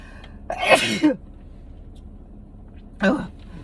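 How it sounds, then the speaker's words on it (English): A sharp sneeze bursts out close by, followed a few seconds later by a shorter second burst, with quiet in between. "That was just a sneeze."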